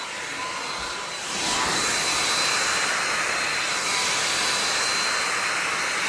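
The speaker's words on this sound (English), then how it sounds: "So the main thing I'm doing with the dryer is I'm getting my roots" A hair dryer blows continuously at close range while smoothing the roots of short hair, a loud, steady rushing whoosh that swells slightly after the first second and holds without pause, with no voices.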